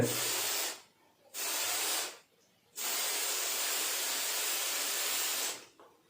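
Three hissing bursts from an aerosol adhesive spray can used to stick acoustic foam, separated by short pauses, the last one long and steady, close by.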